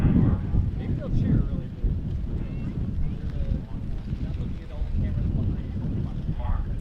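Strong wind buffets the microphone at an outdoor rocket launch viewing site, gusty low rumbling roar rising and falling, with a voice talking faintly under it.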